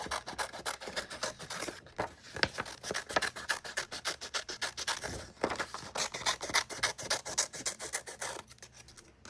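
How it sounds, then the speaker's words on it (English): Scissors or a blade cut away the printed lines around a sublimation print, producing a steady run of close, rhythmic rasping and snipping strokes, fairly quiet, with no talk. "So I can just cut these lines off."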